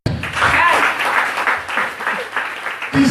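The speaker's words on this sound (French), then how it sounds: "Acclamez." Loud, dense applause from a church congregation after a pastor's call during a French sermon, sustained clapping with cheering tones that dips briefly before surging again.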